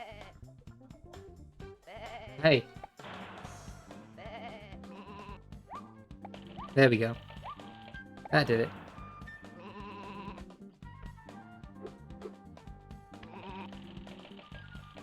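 Sheep bleat in the video game Sheep Raider, three loud wavering bleats standing out over soft game music, while someone talks between them.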